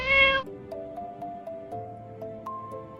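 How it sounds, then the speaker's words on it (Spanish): A cat gives one short, clear meow near the start, followed by soft background music. "Gato."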